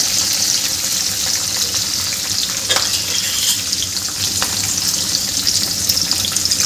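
Green chillies and peanuts fry in a pan with a steady, close hiss and crackle, stirred with a couple of brief scraping clicks, no voices.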